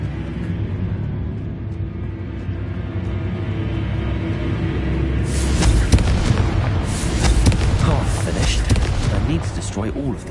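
Confringo blasting spells burst in Hogwarts Legacy combat, a run of booming explosive impacts that grow denser and louder in the second half over a constant rumbling game-battle background.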